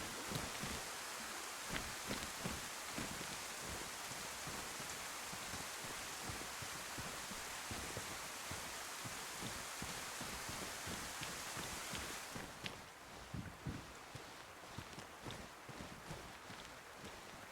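Rain falls in the video game DayZ as a faint, steady wash of hiss with scattered patter and soft footstep-like rustles, dropping quieter toward the end, with no talking.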